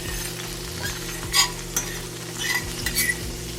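Lollipop lamb chops sizzling in a pan with onions, a constant crackling fry punctuated by a few sharp utensil clinks and scrapes, over a low steady hum, no speech.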